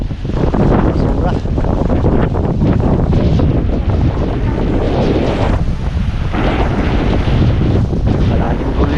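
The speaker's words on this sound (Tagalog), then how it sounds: "laki ng alon" Big waves and strong wind at sea after a typhoon make a loud, constant roar, with gusts buffeting the microphone and a boat's engine rumbling beneath; voices are faintly mixed in.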